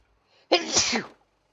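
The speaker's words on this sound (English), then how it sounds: "I'm gonna have a cute anime girl sneeze" A single high, cute anime-girl-style sneeze sound effect, short, loud and close, ending in a breathy tail before silence.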